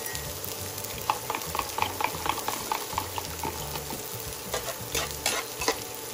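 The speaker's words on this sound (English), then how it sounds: "fry them for like 30 seconds, just like that" Cabbage stir-fried with sausage and bacon in a pan, a steady sizzle under busy, repeated scraping and clinking of the utensil against the pan, with no talking.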